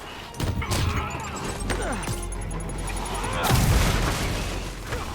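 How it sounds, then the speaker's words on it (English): Video game explosion in Spider-Man on PS4, a loud booming blast with crashing debris and thuds over a dense action-game mix, swelling again near the end. "Nice particle explosion and all that."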